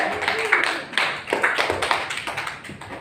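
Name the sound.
classroom applause for a student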